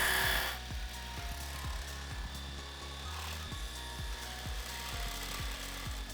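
A saw blade cuts through an aluminium plate held flat on a support, a loud continuous motor drone with a regular rhythmic pulsing from the blade biting the metal, close up with no talking.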